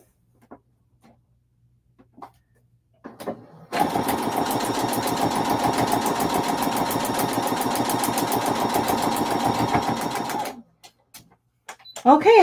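A sewing machine stitches a foundation paper pieced quilt block in one steady, rapid run of needle strokes lasting about seven seconds, with brief quiet handling sounds before and after.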